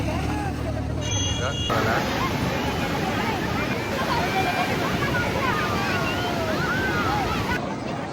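Sea waves surge and wash in at a crowded beach at high tide on the coast, a continuous loud roar with wind buffeting the microphone and faint crowd babble in the background.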